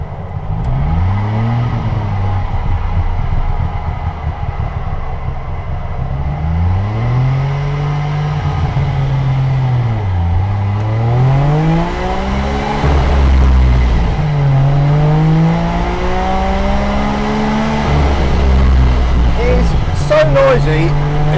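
An Auto Union car's engine, heard from inside on a country b-road, roars loudly and continuously, its pitch climbing and dropping repeatedly through gear changes.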